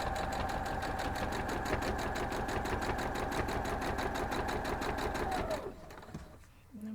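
A sewing machine sews pieces of a diamond star quilt block in a loud, steady rapid chatter, stopping abruptly near the end and leaving quiet room sound.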